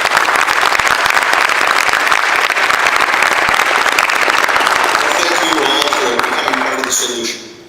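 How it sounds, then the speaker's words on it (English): An audience at an ACT! for America talk applauds loudly and continuously in a dense wash of clapping, which fades out at the end. "let's please give a round of applause"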